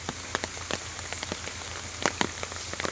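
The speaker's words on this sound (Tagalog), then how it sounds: "Kasi matindi ngayon ang ulan. Malakas talaga." Steady heavy rain pours down in a dense hiss, with sharper drops splattering on a nearby surface throughout.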